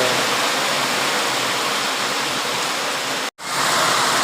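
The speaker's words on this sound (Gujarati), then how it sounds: "વરસાદ ફૂલ ચાલે છે." Heavy rain pouring down in a village during an Aatham fair, a dense, loud, continuous hiss that fills the space with no gaps, broken only by a momentary dropout near the end.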